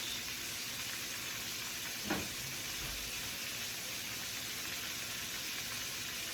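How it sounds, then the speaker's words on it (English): Butter melting in a hot pan: a steady, faint sizzle and hiss throughout, with one soft clunk partway through, no talk. "so I'm gonna go ahead and put some butter"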